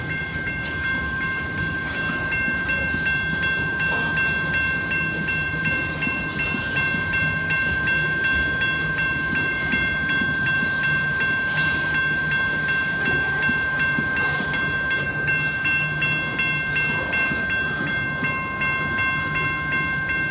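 Long freight train of roughly 100 cars rolling steadily past on a Paducah and Louisville Railway line, a continuous loud rumble of wheels and cars with a sustained high tonal squeal, no voices.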